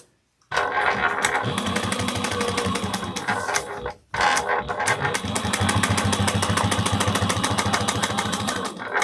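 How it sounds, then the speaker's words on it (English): A sewing machine topstitches fabric close up in two long runs of rapid, even needle clatter, split by a brief pause near the middle, with no talking. "we're going to top stitch at 1/8 of an inch, and then we'll trim"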